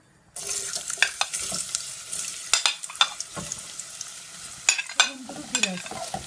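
Beetroot drops into hot sunflower oil for Ukrainian borscht and bursts into a loud sizzle. The frying hiss continues with repeated clattering stirs and scrapes of a spoon against the pan.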